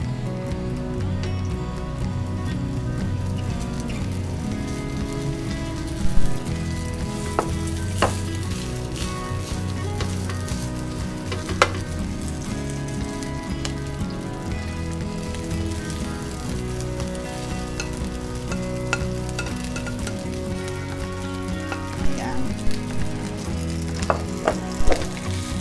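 Fried rice sizzling steadily in a pan while being stirred, a dense continuous crackle with occasional louder scrapes of the utensil, close and without talk.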